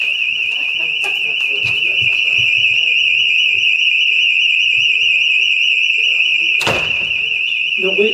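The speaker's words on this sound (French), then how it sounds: "le code de l'alarme" A loud, piercing electronic alarm tone sounding continuously from start to finish, with speech and a few thuds and clatters underneath it.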